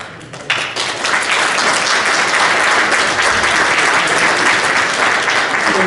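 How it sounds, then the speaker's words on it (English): Audience applause fills a school district deliberative session in New Ipswich, a dense, steady wash of many hands clapping that starts after a brief lead-in and continues loudly to the end. "Please hold your applause."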